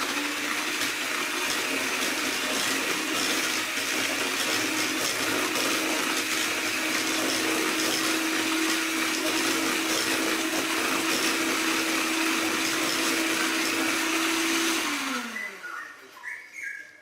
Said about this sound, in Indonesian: kita masukkan 1 butir kuning telur dan kita lanjutkan kembali mixer hingga tercampur rata